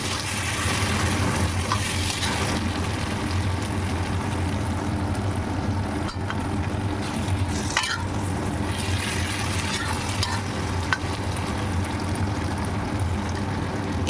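Snake gourd frying in oil while being stirred in a pan, a steady close sizzle running throughout with occasional soft scrapes of the spoon.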